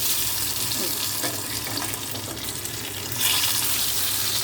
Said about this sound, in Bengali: এভাবে ভেজে তুলে দিতে হবে।